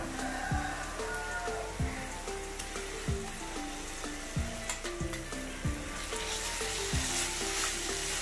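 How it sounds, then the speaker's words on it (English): Ginger garlic paste with browned sliced onions sautés in a pan for a Kerala fish biryani, giving a steady close sizzle broken by regular scraping strokes of a stirring spoon. "Saute the ginger garlic paste until its raw smell leaves the pan"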